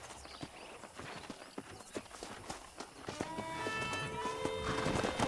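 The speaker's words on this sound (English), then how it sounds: "Let's see if we can't wrangle some horses." Horse hooves clip-clopping at a trot with occasional snorts and whinnies in Red Dead Redemption, over a rising background of ambient game music; no talking.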